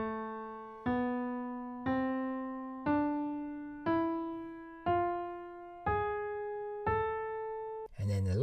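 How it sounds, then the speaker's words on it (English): A harmonic minor scale played as eight ascending notes, evenly spaced about a second apart, each struck cleanly and decaying, with a short noisy burst just after the last note. "we have something called the harmonic minor, which sounds like this."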